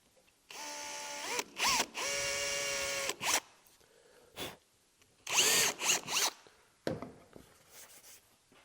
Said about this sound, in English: we can drill that hole